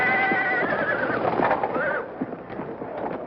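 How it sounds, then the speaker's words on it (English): Black racehorse at a racetrack starting gate neighing, a loud whinny with a falling shrill cry, followed by scuffling and faint clip-clop sounds. "Hey, who's that black horse acting up?"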